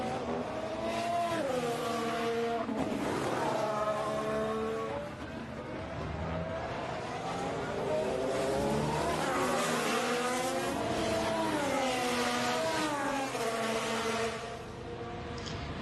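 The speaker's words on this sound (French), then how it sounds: "On profite du son du moteur Honda et du passage sur ce circuit à domicile de Max Verstappen" Honda-engined Formula 1 car on a flying lap at the 2021 Dutch Grand Prix practice session, a loud, high-pitched engine wail climbing and dropping through repeated gear changes over the whole run, with no talk over it.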